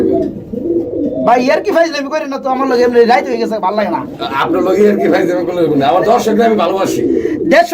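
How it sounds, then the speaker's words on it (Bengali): Soft, low cooing of a male pigeon rolls along steadily beneath near, continuous conversation at a pigeon sale, with brief bird calls rising now and then. "এটা নর কবুতর"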